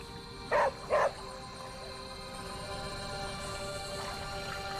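A dog barking twice in quick succession within the video game Marvel's Midnight Suns, two short clear barks early on over a steady ambient game hum.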